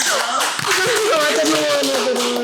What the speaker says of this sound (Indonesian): kita boleh beri tepuk tangan